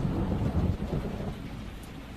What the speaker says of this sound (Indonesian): tiba-tiba hujan turun dengan derasnya